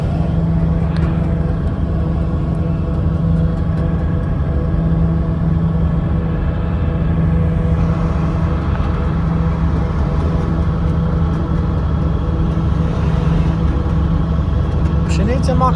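A car on the road, its engine and tyres making a steady, loud, even rumble from inside the cabin throughout.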